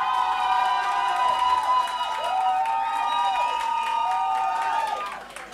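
A talent show studio audience claps and cheers steadily for a contestant for about five seconds. Shrill whoops and shouts rise and fall over the clapping, then the noise dies away at the end.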